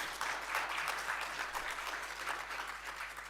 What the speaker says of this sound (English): Can you have another round of applause, please?